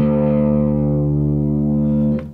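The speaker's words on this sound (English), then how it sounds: "I've just got a little bit of gain, a little bit of distortion using an MXR Timmy pedal and a little bit of reverb. So we get this sound." A single sustained chord rings out on an electric guitar tuned to drop D, run through an MXR Timmy pedal for mild gain and distortion plus reverb, holding loud and steady before fading with a small pick noise at the end.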